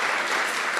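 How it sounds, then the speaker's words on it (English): Dense, steady applause fills a banquet hall, a full crowd clapping together for the organizers of the Islamic Shura Council of Southern California, continuous and loud without a break. "Can we give another round of applause for all of the organizers from the Islamic Shura Council of Southern California"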